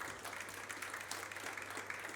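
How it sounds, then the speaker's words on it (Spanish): A church congregation claps in a dense, steady wash of applause that is even and fairly distant, with no voices standing out. "Es para el Señor, déle un fuerte aplauso."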